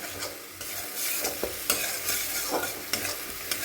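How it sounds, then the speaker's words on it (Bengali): Black cumin and other ingredients frying in a pan for a Bengali taro dish, with steady sizzling broken by scrapes of a spoon being stirred through several times, close and alone with no voices. "একটু ভালো করে একটু ভেজে নেব।"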